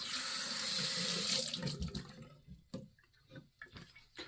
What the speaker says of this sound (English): Let me wash this alum off.